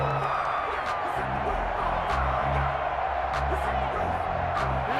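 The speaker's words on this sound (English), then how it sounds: "The crowd getting into it as we come up on a big 3rd down." Stadium crowd noise from a Madden NFL game of the San Francisco 49ers versus the Seattle Seahawks, heading into a big third down: a steady, loud wash of cheering that holds without a break, with a low rhythmic pulse running beneath it.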